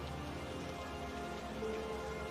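Steady rain falls at night with a soft, even hiss and faint low rumble, continuous and fairly quiet with no voices.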